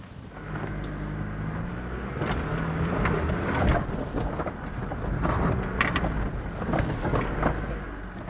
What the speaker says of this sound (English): the Colorado 7 can easily handle those rocky trails